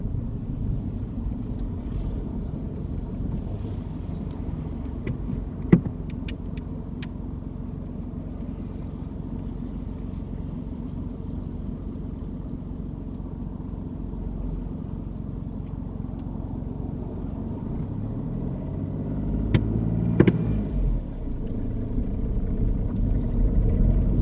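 A car pulling away smoothly on a mock driving test, a steady low engine rumble throughout from inside the cabin, swelling slightly near the end as it moves off, with a couple of faint clicks and no talk.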